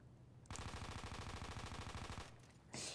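Rapid automatic gunfire in the zombie shooter Cargo Zombies, a dense burst of evenly spaced shots lasting nearly two seconds, then a brief pause and one more loud blast.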